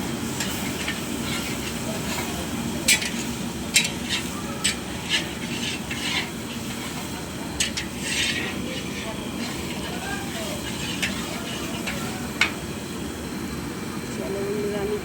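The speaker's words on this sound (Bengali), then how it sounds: "এখানে ক্যাপসিকাম, পেঁয়াজ, আদা, রসুন, কাঁচা লঙ্কা সব ভেজে নিচ্ছি" Capsicum, onion, ginger, garlic and green chilli fry in a pan for mixed fried rice, a steady close hiss broken by scattered spatula clinks and scrapes, with someone speaking over it.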